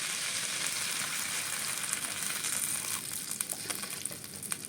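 Spice paste sizzling in a hot pan as water is added for a vegetarian curry, a steady bright frying hiss with small crackles and pops growing toward the end, no talking.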